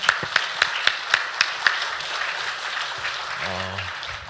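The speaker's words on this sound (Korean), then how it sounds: "우리 모두 박수를 하나님께 영광 올려드렸으면 좋겠습니다." A church congregation claps in praise during a service, opening with a run of distinct, rhythmic group claps that dissolve into a softer, scattered patter, with a brief low tone near the end.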